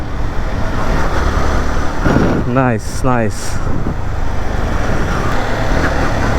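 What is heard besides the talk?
Yamaha R15M motorcycle riding on road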